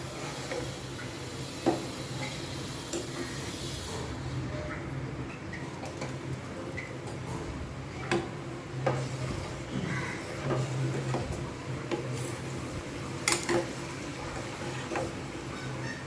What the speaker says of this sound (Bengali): এরমভাবে আমি কিন্তু কন্টিনিউ নাড়াতে থাকবো